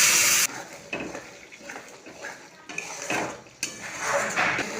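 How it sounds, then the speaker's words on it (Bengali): A spatula clanks and scrapes against a pan while spice paste with mustard, poppy seed and green chili fries, soft sizzling between bursts of metal-on-metal stirring, close by. "মশলাটা খুব ভালো করে কষিয়ে নেব।"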